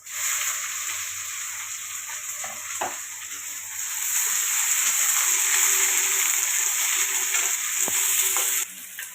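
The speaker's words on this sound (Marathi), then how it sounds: "थोडी मोहरी टाकून घेते आता तुकडे बनायला घेतल्यात आपण आणि थोडेसे जिरे टाकते आणि हिरवी मिरची टाकते कापलेली" Mustard seeds, cumin and cut green chillies frying in hot oil, a loud continuous hiss and crackle that swells midway, with a few sharp pops and light clatter from the pan.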